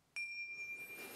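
A pair of tingsha meditation bells is struck together once, giving a bright, sharp ding that rings on as a clear, sustained high tone, close and fairly quiet.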